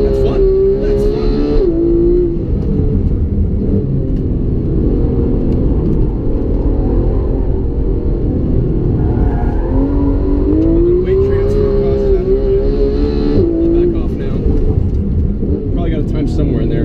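A Porsche 911 GT3 engine rumbles and revs as the car is driven around a figure-eight course, rising and falling with acceleration, while someone talks over the car noise throughout.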